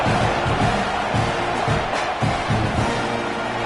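Home stadium crowd at a college football kickoff, Washington against Texas A&M, sending up a steady, dense roar of cheering and noise with no break, loud and sustained throughout.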